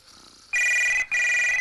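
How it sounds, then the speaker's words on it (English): A telephone bell rings on a children's TV show set in two loud, steady electronic bursts separated by a brief gap, following a few quiet moments. "Oh, there's a phone."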